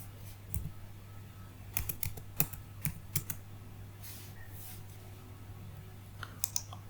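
Registration number keyed in on a computer keyboard: scattered clusters of crisp key clicks, close and fairly quiet, over a steady low electrical hum, with pauses between bursts.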